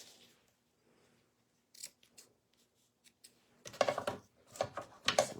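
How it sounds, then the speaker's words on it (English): Scissors snip off the edges of paper for an ice cream swirl craft, a few faint cuts at first and then a cluster of crisp, close snips, with no talking. "We'll snip off our edges."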